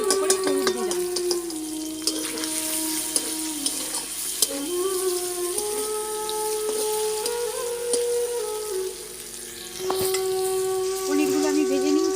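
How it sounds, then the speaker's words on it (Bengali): Paneer pieces with a little turmeric fry in a pan, giving a steady loud sizzle with occasional stirring scrapes and some tonal kitchen background running throughout. "পনিরগুলো আমি ভেজে নিয়েছি"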